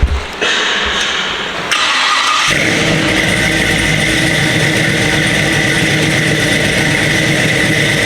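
Chevelle shop truck with an LS3 cam cranking briefly, then firing up and settling into a loud, lumpy idle that carries on steadily.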